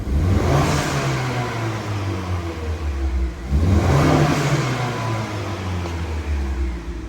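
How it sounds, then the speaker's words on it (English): A Honda Accord with a catless 3-inch downpipe and stock exhaust revs twice, each surge rising in a raspy roar then falling back to a throaty idle, heard up close with no talking. "this is how it sounds like with the Catless downpipe and a stock exhaust."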